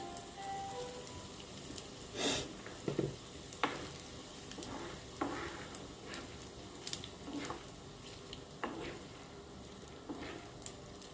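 Fenugreek seeds and asafoetida frying in hot groundnut oil, a steady soft sizzle with scattered crackles and pops and occasional stirring scrapes, close by with no talking.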